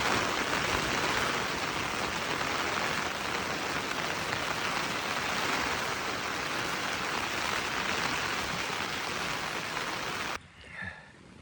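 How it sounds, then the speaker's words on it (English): Heavy rain drums steadily and loudly on a tent through a wet night on a wild camp at Horse Stones on the Naze, a dense unbroken patter that cuts off abruptly near the end. "The noise of the rain on the tent, unbelievable"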